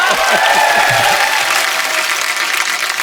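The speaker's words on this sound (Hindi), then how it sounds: "एक बार अमित जी के लिए जोरदार तालियां हो जाए।" A comedy show's studio audience breaks into loud, dense applause and cheering for a guest, with a voice briefly heard under the clapping at the start.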